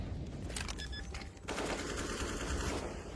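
Rapid AK-47 bursts from a CS:GO match on the Inferno map during a tournament broadcast, fairly dense automatic fire crackling through much of the moment with a brief lull near the middle, no voices over it.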